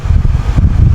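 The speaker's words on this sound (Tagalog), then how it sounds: "Windy." Wind buffeting a microphone outdoors: continuous low rumbling gusts with uneven pulses, loud and close for about a second.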